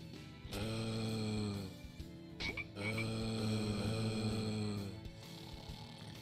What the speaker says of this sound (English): The undead frogs attack each other.